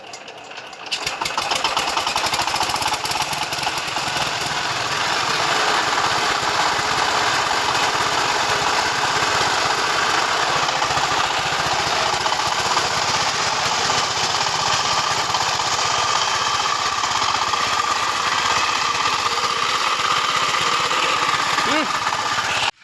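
A mini tractor used for ploughing rice fields starts up after a brief sputter and settles into a steady, rattling diesel idle, close and loud, running continuously throughout.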